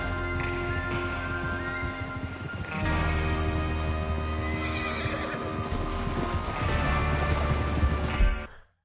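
A horse in a video game whinnies loudly over a dense background of hooves, rumbling movement and ambient noise, with a second neigh toward the end.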